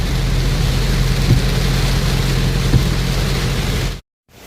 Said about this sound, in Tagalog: Halos hindi makita ang daan sa sobrang lakas po ng ulan.